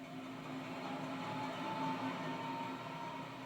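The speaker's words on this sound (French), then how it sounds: "Les ventilos se mettent en route." A low, steady mechanical drone of locomotive ventilation fans running continuously in a CC 7107 cab at a depot, faint and even throughout with no voices.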